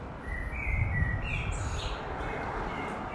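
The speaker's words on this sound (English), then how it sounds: "that bird, do you hear that bird? It's going absolutely nuts." A bird sings loudly and insistently in a narrow stone close in Edinburgh, its bright trills echoing over a steady wash of city background noise.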